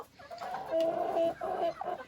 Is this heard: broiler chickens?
yes